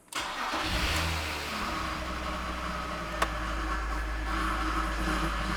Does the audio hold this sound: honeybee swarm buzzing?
no